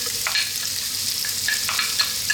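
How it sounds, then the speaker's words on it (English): Chopped onion sizzles in olive oil in a pan over medium heat, a close, steady crackling fry with brief brighter spits throughout. "We're going to start off by dropping in our onion."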